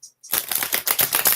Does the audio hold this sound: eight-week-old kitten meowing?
no